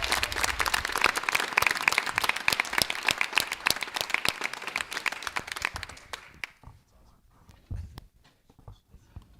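A room at a school board meeting breaks into applause for a student state champion, dense clapping that runs steadily for several seconds, then thins into a few scattered claps and quiet taps.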